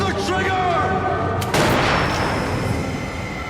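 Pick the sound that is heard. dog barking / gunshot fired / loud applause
gunshot fired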